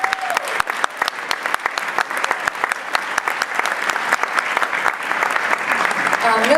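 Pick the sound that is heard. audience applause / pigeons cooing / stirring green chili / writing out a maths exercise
audience applause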